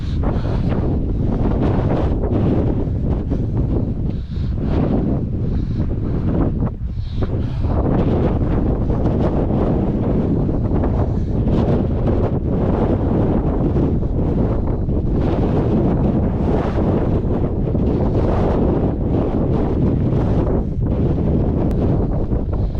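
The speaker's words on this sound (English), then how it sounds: "it's pretty windy" Strong wind blasting across a hilltop at Captain Cook's Monument, a loud, constant roaring rumble of gusts buffeting the microphone for the whole stretch, with no talking.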